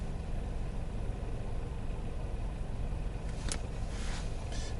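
Engine noise inside a manual Chevrolet Aveo taxi, a steady broadband drone that holds evenly throughout, with a few brief clicks near the end.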